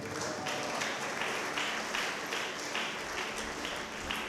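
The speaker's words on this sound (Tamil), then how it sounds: "இப்ப கைத்தட்டி ஆண்டவரை ஸ்தோத்திரம் பண்ணணும்." A congregation at a Tamil church service claps hands in praise, a steady, moderately distant rhythm of many hands with regular accented beats, the claps fairly soft and continuous throughout.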